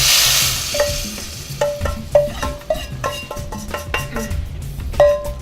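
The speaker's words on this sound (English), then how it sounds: "So we're going to stir this and just kind of stir it pretty frequently so that the flour, it doesn't start to burn." Flour is stirred into butter in a pan for a beef stew, with repeated clear scrapes and clinks of a utensil against the pan over a soft sizzle, no talking.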